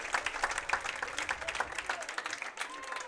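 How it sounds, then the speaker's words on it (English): Scattered applause from a modest crowd at a high school sports event honoring fall athletes, uneven claps rising and thinning over a few seconds, with a voice talking faintly underneath. "Let's give all our fall athletes a big round of applause"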